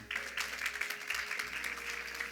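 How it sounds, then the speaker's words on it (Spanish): A church congregation claps together during a sermon, a steady patter of many hands at moderate volume with a faint tonal hum underneath and no speech. "Den un aplauso al Señor."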